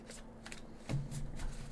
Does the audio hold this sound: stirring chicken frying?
no